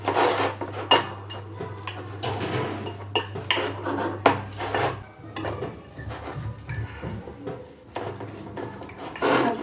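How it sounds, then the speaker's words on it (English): Spices and salt being mixed in a bowl for a potato breakfast dish, heard as steady scraping and clinking of a utensil against the bowl in irregular bursts, close and fairly loud with no talking. "Mix spices and salt. We mix well."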